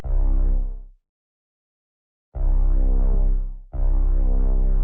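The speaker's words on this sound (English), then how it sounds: "Backing that up, we have this bass pattern that I made on Serum." A deep, droning bass made on the Serum synthesizer plays long sustained notes, cutting off into a gap of silence before returning in heavy, rhythmic pulses.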